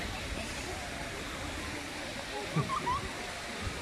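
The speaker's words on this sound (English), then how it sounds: "Water flowing there, fountains." Steady rushing and splashing of water from fountains in the Peace Gardens, Sheffield city centre, a continuous wash at moderate distance under general outdoor background with brief faint bumps.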